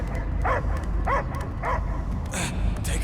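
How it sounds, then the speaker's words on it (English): Dog barks from Marvel's Guardians of the Galaxy on PS5, a few short yelping barks spaced about half a second apart over a steady low rumble of game ambience, fairly close and clear. "I hear only barking."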